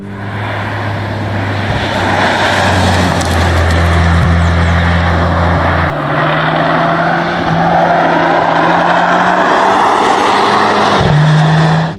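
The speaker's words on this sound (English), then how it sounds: "Listen closely. This is what an AMG used to sound like." An older Mercedes-AMG V8 growls loud and close, its deep engine note holding and shifting pitch with steady throttle changes and a drop near the end.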